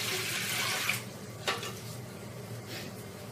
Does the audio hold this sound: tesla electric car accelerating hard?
no